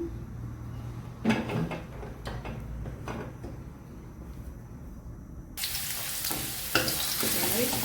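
Cooking oil sizzling in a hot wok: a steady crackling hiss throughout that grows louder and brighter partway through, with occasional clinks of utensils.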